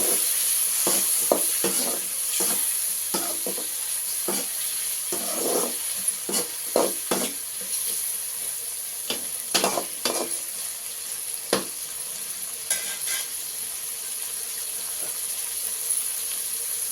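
Tomatoes soften in a hot pan for bitter gourd masala, a quiet steady sizzle broken by frequent scraping spoon strokes as they are stirred, close up with no talking.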